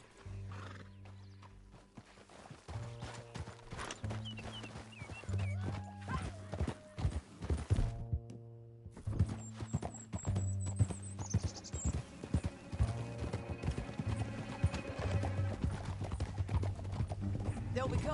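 Galloping horse hooves in Red Dead Redemption 2 drive a steady clip-clop rhythm, with whinnies and a dense game music bed. A brief hush comes midway, then the hoofbeats pick back up, close and prominent.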